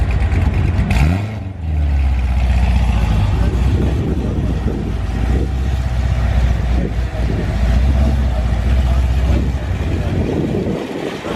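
A cammed car engine revs loudly and close by at an outdoor car meet, its lumpy idle rumbling steadily with wind buffeting the microphone.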